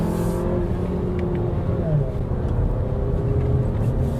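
A 2021 Audi Q3 Sportback Quattro on 19-inch wheels with 255/45 R19 tyres climbs a wet hill, its engine droning steadily and loudly under load with tyre and road noise throughout.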